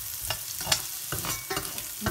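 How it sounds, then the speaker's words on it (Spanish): Onion fries in a pan for Chinese-style fried rice, a constant sizzle broken by several quick, close stirring scrapes in an uneven rhythm. "Voy a poner la cebolla."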